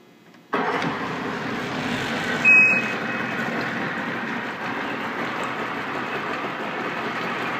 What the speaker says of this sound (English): Let's get the motor running.